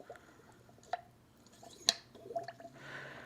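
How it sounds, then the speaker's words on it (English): A plunger is pumped up and down while bleeding air from the fluid in a motorcycle fork fitted with an Ohlins cartridge kit, giving faint wet squishes and drips with a sharper squelch near the middle. "we're bleeding the fork, essentially, right? Like we're getting all the air bubbles out of the fluid"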